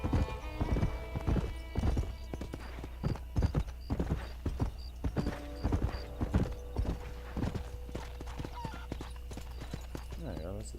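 Horse hooves clip-clop in a steady trotting rhythm throughout in the video game Red Dead Redemption, with someone talking over the hoofbeats.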